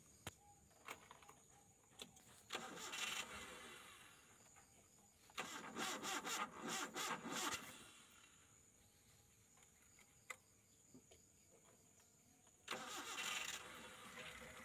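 An old car engine with a freshly serviced carburetor cranks and catches in several bursts, each loud and rough, separated by quieter gaps, with no talking over it.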